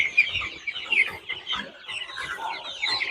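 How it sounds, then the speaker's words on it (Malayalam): Andhra chickens clucking close by, with a busy run of short overlapping clucks and squawks from several birds over about three seconds. "ഇത് ആന്ധ്ര, കർണാടക, സേലം ഈ ഭാഗത്തുനിന്ന് വരുന്ന കോഴിയാത്."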